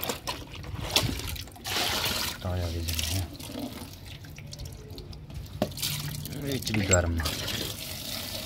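Water trickles and splashes into a cup being filled for pigeons, with intermittent pouring sounds and drips close by as a person talks over it.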